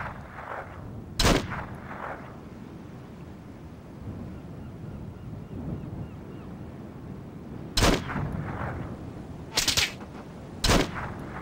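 Four sharp gunshots ring out in the Dragon Rising military game, one early and three spaced later, the last two close together, each loud and echoing over a quiet windy background.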